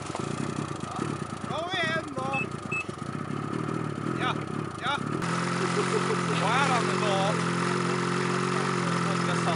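An engine turns over and catches midway, then settles into a steady running drone, with several people talking over it.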